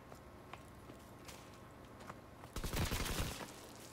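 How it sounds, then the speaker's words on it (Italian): Gunfire in Call of Duty WW2, faint distant single shots scattered across the quiet, then a louder rapid burst of automatic fire rattling for about half a second near the end. "Chi è che spara?"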